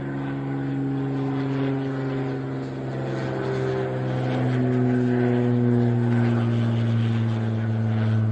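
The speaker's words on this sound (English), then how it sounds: "There's a plane that keeps flying over." A propeller plane drones overhead with a steady, humming engine tone that slowly swells louder, heard outdoors near a rattle-can paint job on a 1984 Chevy C10 pickup.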